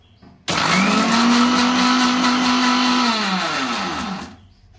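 An electric grinder whirs loudly, grinding mustard and green chilli into a paste. It starts abruptly, holds a steady high-pitched whine for about four seconds, then winds down and stops.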